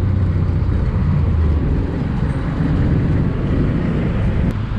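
Continuous low traffic drone on a congested road near Daraga, Albay, engines idling and rumbling close by, loud and unbroken with no voices.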